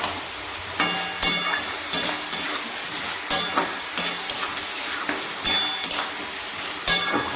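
Potatoes, pointed gourd and prawns are stirred in a pan with a spatula, giving repeated sharp metallic scrapes and clinks at an uneven rhythm over a soft background sizzle.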